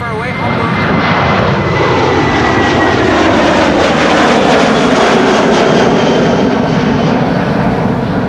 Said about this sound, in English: KLM flight 1755 to Hamburg, already airborne, not too far away, Hamburg.